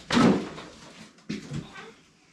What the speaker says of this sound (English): I will open the doors.